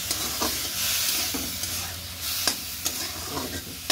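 Garlic being stirred through in a frying pan, probably with cumin and greens wilting down: a steady close sizzle with soft scraping strokes of the spatula at irregular intervals, no voices.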